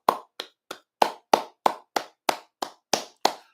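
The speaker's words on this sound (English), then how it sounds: "so I'm going to clap for myself" One person clapping for themselves, about eleven sharp, close hand claps in a steady, evenly spaced rhythm, with no talk.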